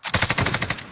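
Automatic weapon fire in the Call of Duty Warzone video game, a loud rapid burst of about a dozen evenly spaced shots.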